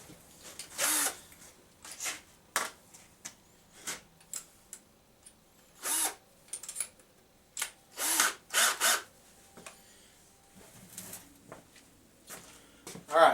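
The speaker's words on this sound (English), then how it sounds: "Just drilled 2 holes, line them up on the back with washers." Power drill boring two bolt holes while building a pack basket, in short separate whirring bursts of a second or so each, close and fairly loud, with quiet pauses and some handling noise between bursts.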